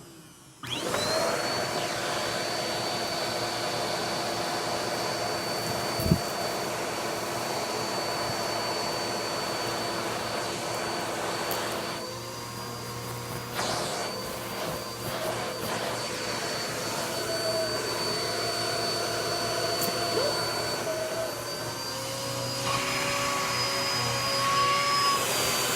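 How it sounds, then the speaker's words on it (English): A Bissell pet vacuum cleaner drones steadily for the whole stretch, a loud, close motor whine with a high tone and a slight shift in pitch partway through as it works. "Thank you so much, Bissell Pet Vacuum."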